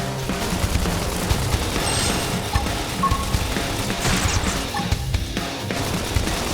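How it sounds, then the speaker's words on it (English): Rapid bursts of gunfire in Xenoblade Chronicles X crackle continuously over a dense, busy mix of game sound effects, loud and steady throughout. "topple them with some gunfire."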